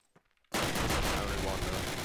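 Machine gun fire in a video game, Carentan map: after a brief quiet moment a loud, sustained burst of rapid automatic fire erupts and continues close and dense to the end.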